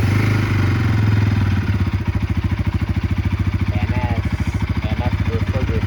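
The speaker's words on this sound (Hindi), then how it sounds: "तो भाई ये बाइक स्टार्ट कर रहे हैं। Cold start. कोल्ड स्टार्ट हो रही है बाइक।" A motorcycle cold-starts with a brief cranking clatter, then settles into a loud, close, rapidly pulsing idle whose thumps repeat evenly; someone talks over the start.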